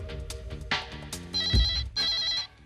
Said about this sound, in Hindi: शायद मेरे डायरेक्ट लाइन पर कोई फोन आया है।